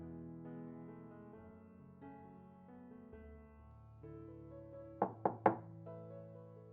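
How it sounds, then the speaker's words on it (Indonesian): Three sharp knocks on a door in quick succession, loud against a soft sustained musical backdrop that plays throughout. "Terdengar pintu diketuk."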